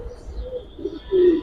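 Giribaz high flyer pigeon cooing softly nearby, a few short low coos rising to a fuller, louder one at the end, over a faint background hum.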